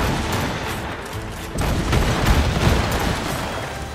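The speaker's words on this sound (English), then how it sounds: "They're firing a volley!" Ship cannons fire a volley in Assassin's Creed Rogue naval combat, a loud rolling barrage of overlapping booms and cracks that intensifies midway and rumbles on.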